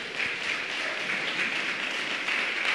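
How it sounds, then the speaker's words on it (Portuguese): A church congregation applauds at a live worship service, a steady wash of clapping that holds evenly throughout without talk over it. "Dá uma salva de palmas para Jesus."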